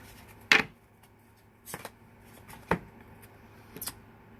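Tarot cards being handled and shuffled in a quiet room, four brief soft riffles or snaps spaced about a second apart, close and faint, with no talking.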